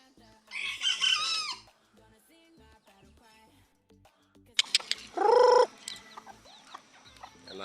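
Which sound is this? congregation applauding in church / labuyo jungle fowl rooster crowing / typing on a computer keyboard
labuyo jungle fowl rooster crowing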